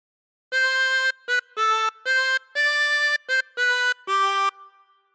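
Harmonica playing the opening phrase of All Through the Night, eight clean sustained notes with short gaps between them, some draw and some blow, close and clear with no talking.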